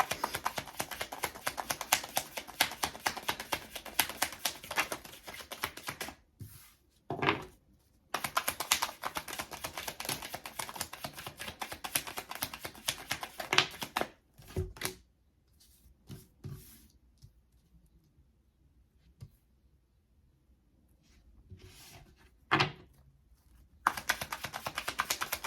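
Tarot cards handled and shuffled, a dense run of rapid crisp riffling clicks that stops and starts several times, with quieter gaps between bursts, close and alone.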